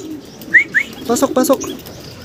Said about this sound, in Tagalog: Anak ni si Genesis mga kalapatids.